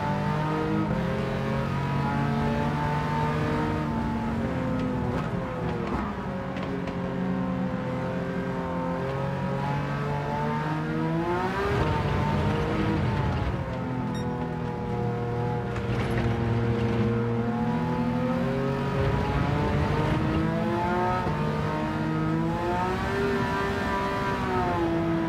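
A VW bus engine in Gran Turismo 7 drones and revs steadily through a race, pitch climbing through the gears and dropping at each shift, loud and continuous with no talk over it.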